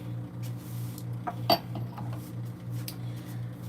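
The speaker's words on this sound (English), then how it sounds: "I just want to wash some dishes out that I have left over from us." Dishes being washed by hand at home: scattered clinks and taps of plates and cutlery over a steady low hum, with one sharper clatter standing out near the middle, no talk.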